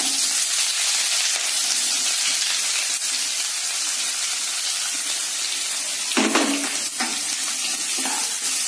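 Steady oil sizzle from chopped onions frying in a pan for egg masala, a continuous bright hiss with a brief stir and clatter near the end.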